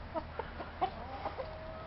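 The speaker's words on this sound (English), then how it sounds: "That's Sam. That's my main rooster." Rooster named Sam giving a short series of soft, low clucks, about five brief calls in two seconds, close by and fairly quiet against a faint background hum.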